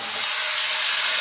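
Cut vegetables hit hot oil in a pan while a rui fish curry is being cooked, giving a loud, steady, bright sizzle that fills the whole moment without a break.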